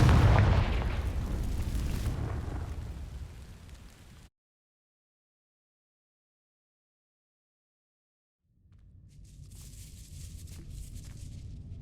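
Confringo blasting-spell explosions in the Hogwarts Legacy video game: a loud booming blast that rumbles and fades over a few seconds, then total silence, then another rising rumble with crackling debris near the end.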